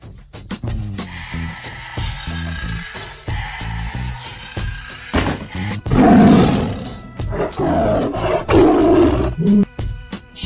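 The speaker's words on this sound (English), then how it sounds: "Tiger." A tiger roars several times, deep growling bursts repeated in a loud, close sequence with a rough, throaty roar swelling near the end, no talking.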